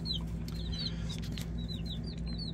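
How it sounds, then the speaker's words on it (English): Week-old chicks from a newly arrived flock cheep in repeated high chirps over a steady low hum and some wing flapping, close and continuous, with no talking. "I got these chickens Tuesday."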